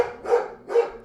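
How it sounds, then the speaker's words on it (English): A dog barks twice indoors, close by, each bark a short hoarse burst, evenly spaced and moderately loud, with no talking over it. "It just means that she's going to keep barking for a while."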